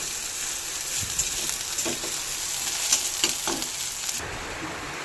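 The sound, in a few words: onions frying in a pan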